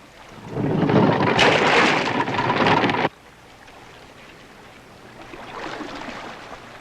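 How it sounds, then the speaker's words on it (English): A ship's anchor is dropped at sea, and its chain runs out in a loud, harsh rush for about two and a half seconds. The rush stops abruptly, leaving low, quiet ambience with a faint swell near the end. "Tony, drop the anchor"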